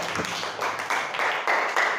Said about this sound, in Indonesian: Tepuk tangan yang keras untuk kita semua